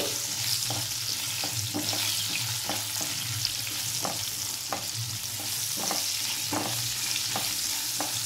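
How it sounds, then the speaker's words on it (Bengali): Potatoes frying in a pan for a vegetarian turnip (kohlrabi) dish with dried chilli, with a steady close sizzle over medium heat and repeated soft scraping stirs at an uneven rhythm, no talking. "এবার আমি এই আলুটা দিয়ে দিচ্ছি, এটা একটু নেড়ে দিচ্ছি।"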